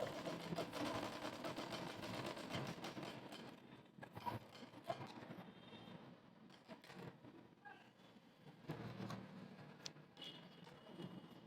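A sewing machine stitches along folded cloth for a latkan design, its busy mechanical whirr running steadily through the clip with a few brief pauses and restarts.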